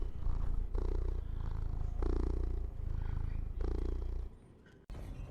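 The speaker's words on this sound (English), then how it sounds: "listen to those purrs he does" A Pal creature in the Palworld video game purrs in a loud, close, rumbling rhythm of repeated breathy cycles, each swelling and fading, before the sound briefly drops away near the end.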